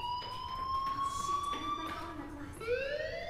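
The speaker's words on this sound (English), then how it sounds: "do you hear that fire alarm? That means you should be outside." A fire alarm rings inside the video game Life Is Strange, a steady electronic tone that rises and then jumps higher, holding loud and continuous over a faint background bed.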